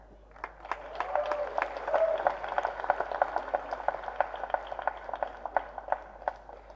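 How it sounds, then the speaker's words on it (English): An audience at a film first-look launch event applauds in a dense, steady crackle of many hands at moderate distance, sustained evenly with no voices over it. "That's an applause that's coming to him decades later"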